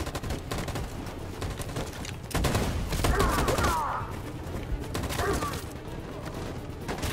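Machine-gun fire in a Detroit: Become Human battle scene rattles in dense, continuous bursts. It swells louder midway, with scattered voices under the din.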